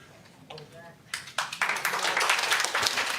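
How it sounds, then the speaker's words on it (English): An audience at a preservation commission meeting breaks into clapping that builds from a few scattered claps into sustained applause, with a voice speaking faintly beforehand. "Hold the clapping, please."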